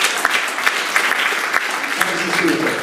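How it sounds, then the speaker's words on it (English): An audience at a magic show gives a volunteer a brief, steady round of applause, with a few sharper claps standing out from the crowd's clapping. "You get a nice round of applause."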